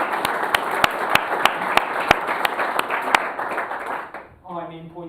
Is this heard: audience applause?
yes